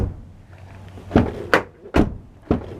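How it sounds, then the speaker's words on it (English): A Peugeot Partner / Citroën Berlingo van door is slammed shut several times after a rattle repair, four sharp, solid thuds spaced about half a second apart with no rattle trailing them and no talking. "there is now no rattle when you slam the door."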